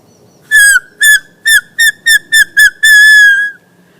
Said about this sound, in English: it's fun to make a whistle with grass